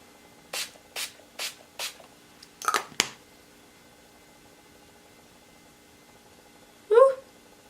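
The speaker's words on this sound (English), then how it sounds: "Let's put down that setting spray." Four short, evenly spaced bursts of makeup setting spray, then a couple of rougher hisses, and after a pause a brief louder rustle close to the mic.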